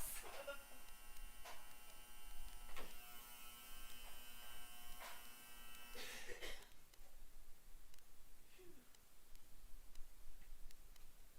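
An angry, wailing end-of-cycle buzzer on a household clothes dryer sounds as a steady harmonic-rich tone with rhythmic pulses for about six seconds, then cuts off, leaving quiet room noise.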